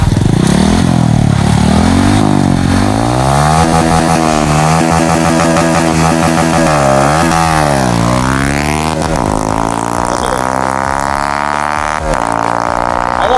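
A Honda Wave 110i motorcycle with a 53 mm piston and stock lower end revs hard and accelerates, its engine note climbing and falling through repeated rising sweeps, loud and close for the whole stretch.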